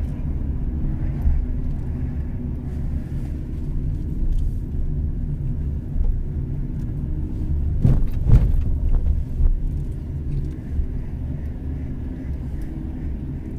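A car drives straight ahead during a driving lesson, with a steady low cabin rumble of engine and road noise and a brief louder bump or knock near the middle.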